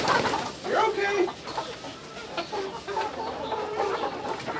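Hens clucking in a pen, a newly arrived batch of chickens, with several birds calling near and overlapping in short bursts while a person talks among them.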